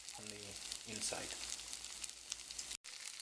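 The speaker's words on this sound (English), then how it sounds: "So we've been frying the potato pancakes for quite a while now" Potato pancakes sizzling and crackling in a frying pan, with a voice talking briefly over the start of the steady hiss.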